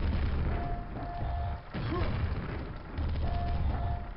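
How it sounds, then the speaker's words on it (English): Grenade blasts from the Quake video game, low booming thumps and crashes that come and go over a steady dense game rumble. "If these grenades would kindly hit the baddie, we could all move on."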